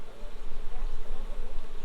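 Honeybees buzz in a dense, continuous drone during a beehive inspection, close and steady, with a low rumble underneath.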